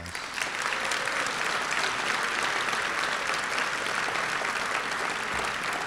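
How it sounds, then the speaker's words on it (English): Sustained applause for a graduating upper school senior class at a senior class night, a thick, even wash of clapping from a large crowd that barely varies over several seconds. "I ask you to join me in giving them another round of applause."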